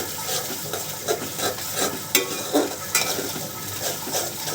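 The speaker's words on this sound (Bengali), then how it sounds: "এই যে ধনিয়ার গুঁড়া দিলাম, দিয়ে মশলাটাকে ভালো করে কষিয়ে নেব।" Ground spice masala with coriander powder being stirred and fried in oil for a rohu fish and taro curry, with a steady sizzle broken by repeated scraping strokes of a spoon against the pan; no voices.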